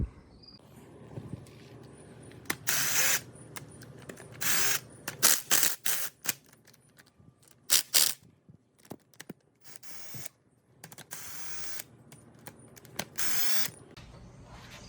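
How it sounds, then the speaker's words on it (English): Parts come off a 2JZ-GTE engine as its oil pump is removed, heard as scattered close mechanical clicks, ratcheting bursts and metallic clatters separated by quiet pauses, with no talking. "now we're gonna take the oil pump off"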